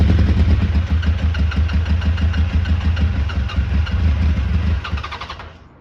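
A Suzuki Bandit 1200 motorcycle under restoration, running on a little fuel, idles with a steady, lumpy beat close by, loud and even throughout, before cutting out and fading at the end; no talking.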